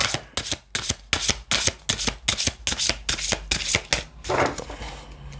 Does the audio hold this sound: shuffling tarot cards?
yes